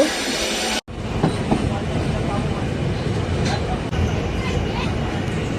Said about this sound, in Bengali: ট্রেনে ট্রেনে আমরা উঠে পড়েছি এবার ঠিকঠাক করে যাব